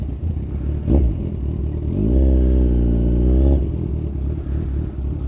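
Kawasaki Z1000 motorcycle pulling away, its engine rising in a loud, close rev that holds for a moment and then eases off, with no talk over it.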